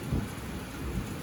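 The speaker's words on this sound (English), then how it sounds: "Let's listen for the crack of the thunder." Thunder rumbles low and heavy through a thunderstorm over a lake, two deep swells of booming sound rising above steady rain pattering down nearby.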